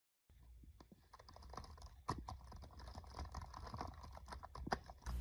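Rapid, uneven tapping on a computer keyboard, close and fairly quiet, with bursts of keystrokes and a few sharper key hits throughout.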